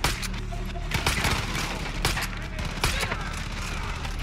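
Gunfire in the video game Far Cry 5: dense, crackling bursts of shots and booms pile up over the whole stretch, loud and close, with a continuous rumbling battle background.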